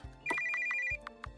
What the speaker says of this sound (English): It's my phone.